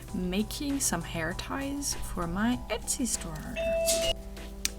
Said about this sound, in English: And that was the doorbell.